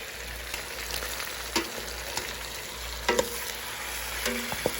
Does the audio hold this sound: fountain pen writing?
no